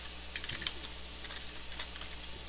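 Quick bursts of keystrokes tapped on a computer keyboard while entering a console command for Fallout 4, with short irregular clicks in clusters over a steady low background hum.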